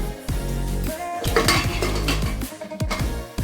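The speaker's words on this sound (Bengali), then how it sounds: "প্রেসার কুকারটা বসিয়ে দিয়েছি।" A pressure cooker holding lentils, water and salt is set down on a stove, giving close metallic clanks and clinks of pots and utensils over a steady low hum.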